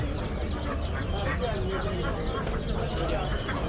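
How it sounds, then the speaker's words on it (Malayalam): Faint, scattered hen clucks rise from busy, noisy Peruvallur market, with people talking in the background throughout. "ഇതാണ് കാശ്മീർ നാടൻ, മുട്ടടാനായ കോഴി."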